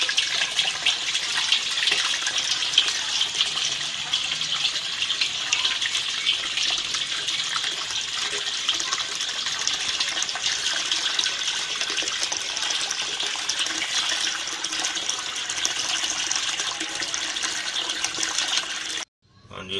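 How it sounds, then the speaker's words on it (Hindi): Water pours steadily into a container holding settled medicinal sediment, a continuous close-up gushing splash at an even level for nearly twenty seconds before cutting off abruptly. "और इतने असं पानी होर शामिल कर लें"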